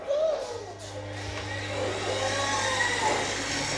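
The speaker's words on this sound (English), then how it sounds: "So turn your mixer on." An electric meat mincer runs steadily while mincing fatty lamb, with a constant low motor drone and a grinding rumble that holds throughout at close range.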